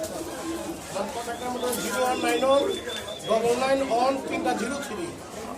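Pigeons coo repeatedly at a busy pigeon market, their throaty warbling calls overlapping close by while people talk in the background.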